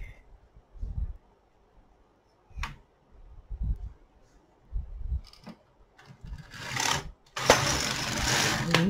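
A domestic knitting machine in use, its carriage passing in short rhythmic bursts of clacking and whirring separated by pauses, then a louder, longer swish near the end.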